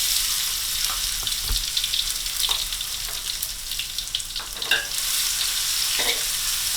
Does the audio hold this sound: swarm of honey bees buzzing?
no